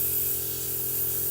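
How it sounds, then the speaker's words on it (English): An airbrush at 38 PSI lets out a steady, even hiss for a moment during a test spray before painting Warhammer miniatures, close and continuous with no talking. "Do a test spray real quick."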